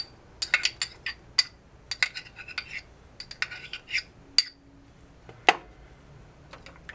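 A spoon clinks and scrapes against a bowl while mashed chickpea hummus is stirred with salt and crushed garlic: a run of sharp, irregular metallic taps, close and clear, with no voices.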